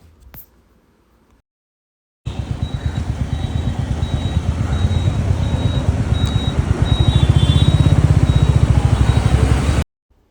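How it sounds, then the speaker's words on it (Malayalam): A new Royal Enfield motorcycle starts up after near silence and runs with a rapid, pulsing thump that grows slightly louder and steadier, heard close for several seconds before cutting off abruptly. "റോയൽ എൻഫീൽഡിൻ്റെ പുതിയ ബൈക്ക് വാങ്ങിയതിന് ശേഷമുള്ള ആദ്യത്തെ ദീർഘദൂര യാത്രയാണ്"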